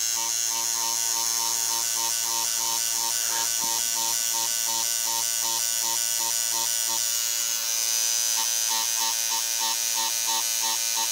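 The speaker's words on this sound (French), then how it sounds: "Dès que vous entendez le bruit du ressort qui marche" A coil tattoo machine buzzes steadily with a dense electric spring hum while tracing and shading a rose tattoo, continuous and close, with slight shifts in pitch as the pressure changes.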